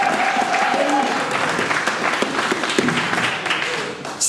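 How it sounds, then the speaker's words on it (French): A church congregation applauding to acclaim the Lord, sustained loud clapping from a full crowd with a voice speaking over it. "Est-ce qu'ensemble on peut acclamer le Seigneur?"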